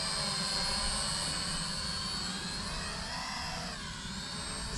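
A Maginon QC 800 SE quadcopter drone flying outdoors, its motors a loud, continuous high-pitched whine with a slight shift in pitch partway through, no voices over it.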